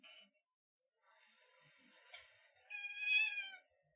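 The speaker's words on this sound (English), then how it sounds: "the only time you can ever hear my cat meow is whenever I'm doing ASMR streams" An indoor cat meows a few times in a quiet room, a short chirp first and then longer drawn-out mews, fairly close and with no talk over them.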